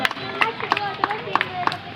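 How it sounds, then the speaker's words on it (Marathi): At an Independence Day celebration an audience claps in a loose, rhythmic patter of close hand claps, with voices murmuring underneath. "सर्वांनी टाळ्या वाजवायच्या आहेत."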